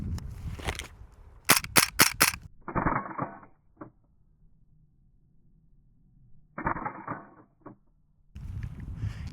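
A King Arms M1 Carbine gas blowback airsoft rifle fires on semi-auto: a quick string of sharp cracks, then two separate bursts of mechanical clatter with a quiet pause between, close and indoors.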